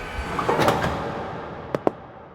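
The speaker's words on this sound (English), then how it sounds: "the doors of the closet burst open" Closet doors burst open indoors: two sharp, close knocks in quick succession over a dull background hiss.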